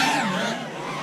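FPV racing quadcopter drones launching together at the start of a race, a dense, loud whine of many high-pitched motors and propellers that sweeps in pitch and eases slightly, with no speech.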